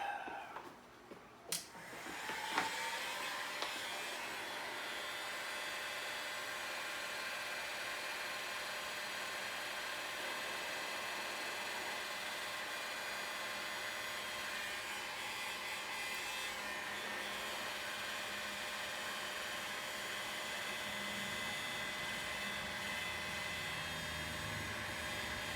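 A heat gun blows a steady, even whoosh and hum while shrinking heat-shrink tubing over the cut end of a Triumph 3TA front brake cable, after a few sharp clicks at the start.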